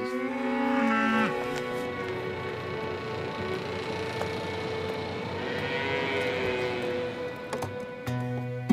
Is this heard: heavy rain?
no